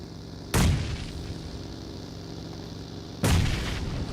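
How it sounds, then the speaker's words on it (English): Two heavy grenade explosions in the shooter game Valorant, each a sharp, loud boom with a rumbling tail, about three seconds apart and heard alone. "oh my gosh, so many nades"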